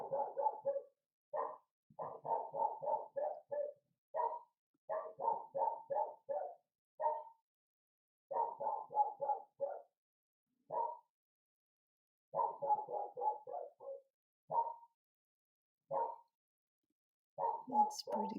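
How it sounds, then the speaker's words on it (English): A pet dog barks over and over in quick clusters of sharp woofs separated by short pauses. The barking is close and clear in a quiet indoor room. "Sorry, my dog is barking."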